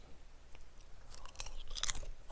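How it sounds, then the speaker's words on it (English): Popcorn being chewed close to a microphone, soft crunchy bites that grow busier toward the end, with no talking. "sorry, I'm chewing popcorn."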